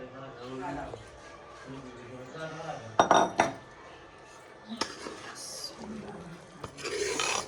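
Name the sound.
adding boiled chickpeas to a pot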